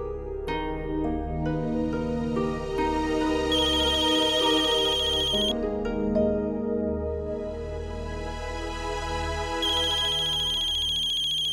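A phone rings unanswered with a melodic electronic ringtone, repeating tonal phrases that stay steady and fairly loud for over ten seconds, with no talking.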